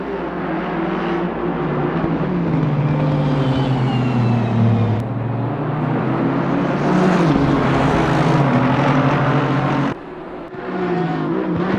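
GT3 race cars in Assetto Corsa Competizione on the Nürburgring, a loud, continuous engine drone that rises and falls with gear changes as cars drag race toward a chicane, with an abrupt shift near the end.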